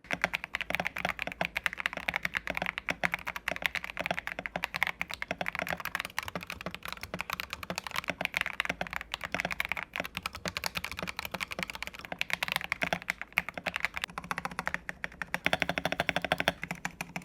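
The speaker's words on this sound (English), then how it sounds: "The stabilized keys are much better now, and the tape mod brings that characteristic lower pitch, or thok as it's popularly called." Fast, steady typing on a Vissles V84 mechanical keyboard with tape mod and stabilized keys continues for about seventeen seconds of dense, close clacks and deeper key strikes, with no talking.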